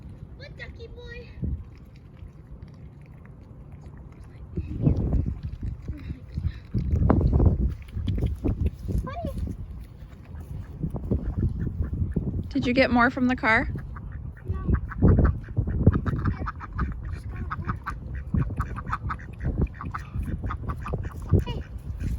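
Duck quacking and honking near a person, a short burst of nasal calls partway through among scattered rustling and thumps, with people talking casually throughout.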